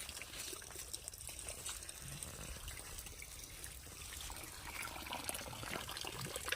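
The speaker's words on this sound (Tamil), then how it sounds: "இப்படி தான் தோட்டத்துக்கு தண்ணி பாய்ச்சிரும்" Irrigation water flows steadily into a garden plot, a continuous faint rushing and trickling with no pauses, heard alone.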